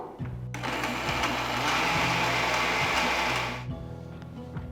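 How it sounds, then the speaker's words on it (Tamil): A mixer grinder grinds horse gram with garlic, cumin and tamarind for kollu podi, a loud steady whirring roar that starts abruptly, holds for about three seconds, then winds down to a lower motor hum. "சேர்த்துட்டு எல்லாத்தையும் நல்லா அரைச்சிடணும்"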